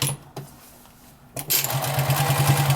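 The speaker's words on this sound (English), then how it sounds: "I'm going to sew an angled line right up to the corner of my rectangle" A sewing machine stitching a quilted potholder, with brief handling noises first, then a close, steady, rapid mechanical whirr of stitching that runs continuously to the end.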